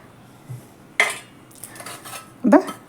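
Small, heavy iron frying pans are handled at a shop and clank against each other: two sharp metallic knocks a moment apart over a low background hiss.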